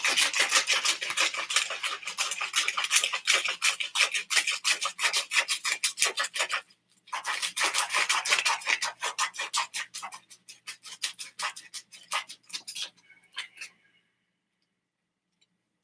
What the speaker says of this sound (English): I'm going to sharpen that tip again.